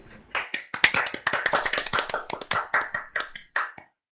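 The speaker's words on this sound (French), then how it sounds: "Applaudissements s'il vous plaît" Scattered hand claps welcome a surprise guest at a small political debate, with a few nearby people clapping in sharp, separate bursts that thin out and stop near the end.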